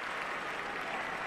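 A tennis crowd at the French Open applauding, a steady wash of clapping heard at a moderate distance, with no talking over it.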